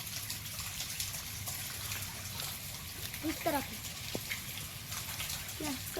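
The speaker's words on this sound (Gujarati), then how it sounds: "અમારે બહુ વરસાદ છે" Heavy rain falling as a dense, steady hiss of drops and splatter, close and continuous, with a few short voiced sounds breaking through midway.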